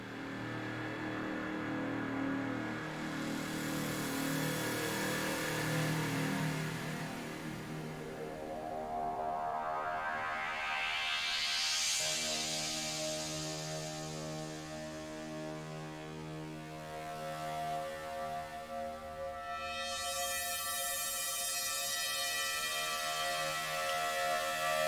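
Evolving psytrance atmosphere samples from a sample pack play alone: long airy washes with slow sweeping filter rises and falls, steady and moderately quiet throughout.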